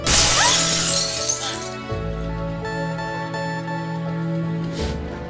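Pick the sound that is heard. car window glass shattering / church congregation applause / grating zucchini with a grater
car window glass shattering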